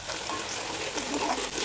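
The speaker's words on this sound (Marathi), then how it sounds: "कांदा लाल होईपर्यंत परतवून घ्यावा" Onion fries in two or three spoons of hot oil in a kadhai, giving a steady, close sizzle with soft stirring and no talk.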